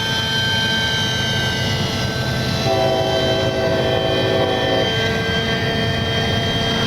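Engines of a remote-control model Horten BV-38 German concept bomber running at full throttle: a loud, steady, continuous whine with sustained tones holds throughout the clip.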